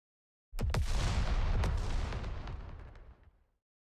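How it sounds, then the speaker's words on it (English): A huge booming blast erupts suddenly in the video game NIKKE, followed by sharp cracks and a long rumbling roar that slowly fades out over a few seconds. "A massive explosion echoes deep within the pitch dark Ark."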